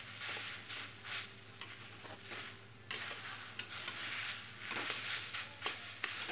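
Chana dal with ground pointed-gourd seed paste frying in a pan, a steady low sizzle broken by periodic scraping stirs of a spatula against the metal, close by with no talking.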